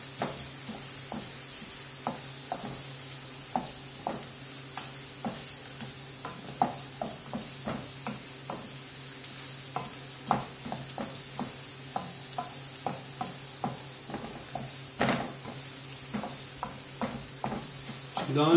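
Vegetables and frozen peppers caramelizing in a pan, a steady sizzle broken by frequent clicking, scraping stirs at a fairly regular pace, close up with no talking.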